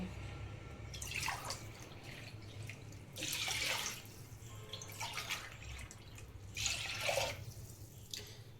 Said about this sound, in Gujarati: ત્રણ પારા પાણી મેળવાનું